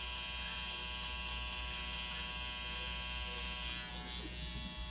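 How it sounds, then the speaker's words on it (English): Electric razor running steadily for about five seconds while facial hair is trimmed, a continuous close, loud buzzing hum with a strong low drone, with no talking over it. "Because we're gonna use the razor next."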